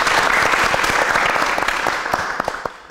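A live audience at an evening show bursts into loud, close applause, the dense clapping fading somewhat toward the end with a few isolated claps.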